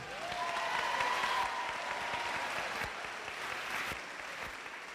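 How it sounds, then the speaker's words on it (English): Moderate applause from an audience at a housing announcement event for seniors, a steady wash of clapping with some cheering voices and a faint whistle-like tone early on, fading slightly toward the end. "Let's give them a round of applause."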